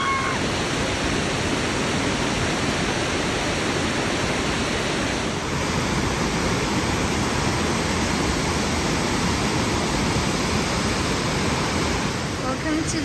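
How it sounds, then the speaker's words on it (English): A California waterfall roars as a dense, constant rush of falling water, loud and close, with no break in the wash of noise. "this is like one of the best, if not the best, waterfall in California"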